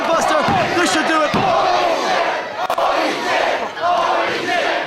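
A wrestling crowd roars loudly after a fisherman buster slam, a dense sustained mass of cheering and shouting with a sharp impact near the start and commentary running underneath.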